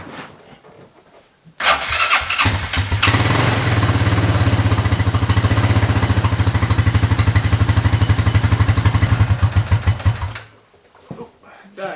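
A Yamaha Raptor 660 ATV engine cranks and catches, then runs loud and close with a rapid, steady single-cylinder chug for several seconds before cutting out abruptly.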